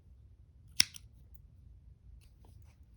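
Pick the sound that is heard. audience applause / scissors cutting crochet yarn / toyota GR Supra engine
scissors cutting crochet yarn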